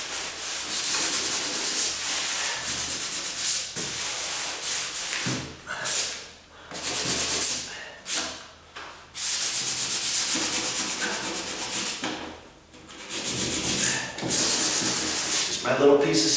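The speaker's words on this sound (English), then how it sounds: "I just cut off of an old piece of sandpaper that I had on the hand paddle" Hand sanding a wooden door with a small cut piece of sandpaper: steady scratchy rubbing strokes, close and loud, repeating in bursts with short pauses between passes, no talk.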